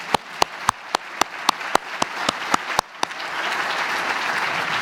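About a dozen sharp, evenly spaced claps from one person open the sound before a larger audience at a university commencement ceremony joins in, turning it into a wash of steady applause.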